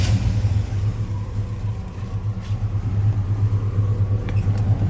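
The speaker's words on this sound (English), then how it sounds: "Let's go ahead and fire this up so you can hear it run." A 1972 Chevrolet Chevelle SS tribute car's engine catches with a sharp burst, then settles into a loud, close, rumbling idle with a steady low throb and slight surges.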